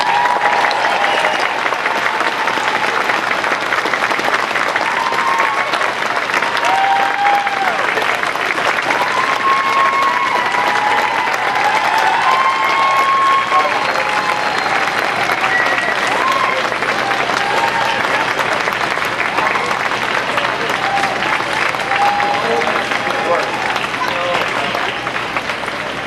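Crowd applause and cheering at the inauguration of Nevada Governor Steve Sisolak, a long, loud, unbroken roar of clapping with whistles and shouts rising through it.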